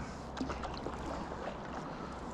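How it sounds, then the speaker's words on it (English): Paddling a small boat at an easy pace on Lake Thirlmere, soft water swishes and dips under faint wind noise on the microphone, with no voices. "Just taking my time, paddling along."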